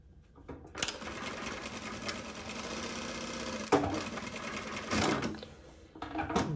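A JUKI DDL-900C industrial sewing machine runs in a steady, loud mechanical whir for several seconds, with short bursts and pauses as it stitches a start tack and seam, ending in a brief final run.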